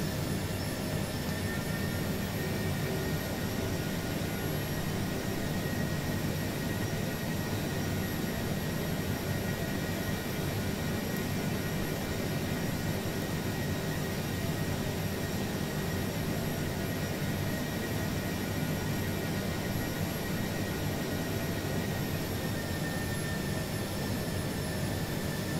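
Jet airliner engines roaring at takeoff in Microsoft Flight Simulator 2020 departing Phoenix, a loud steady broadband whine and rumble with a faint high tone, continuous and unbroken throughout.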